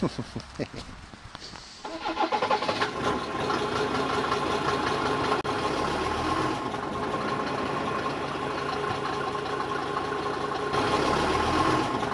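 A vehicle engine idles steadily at close range before rolling over a motorcycle helmet in a crash test, a continuous loud rumble after some handling noise at the start, with brief talk and laughter early on.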